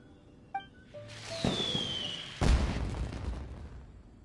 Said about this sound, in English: Did you hear that explosion?